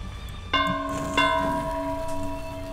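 Two bell strikes in Dead by Daylight, each a bright ringing tone with long decaying overtones, the second following about half a second after the first, over a quiet background.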